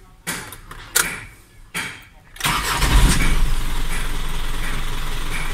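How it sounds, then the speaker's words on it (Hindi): An Isuzu 3-ton truck's diesel engine is cranked and catches after a few clicks and thumps, then settles into a loud, steady idle close by. "गाड़ी स्टार्ट करते हैं और बाहर चलते हैं"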